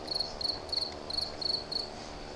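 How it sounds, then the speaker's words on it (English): Crickets chirping at an airport in a flight simulator game, C408 Skycourier on the ground in Sicily: six evenly spaced, rapid trilled chirp bursts, clear but faint over a low steady engine-like hum. "Been a while since I've heard crickets at an airport."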